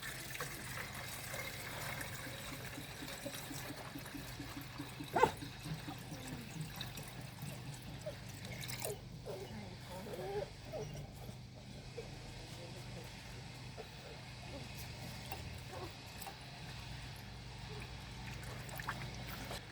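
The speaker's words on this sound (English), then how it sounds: "We're going to put some water in," Water poured into a car's cooling system after a broken heater matrix pipe is fixed, a soft steady trickle running through the clip with a sharp knock partway, while someone talks over it.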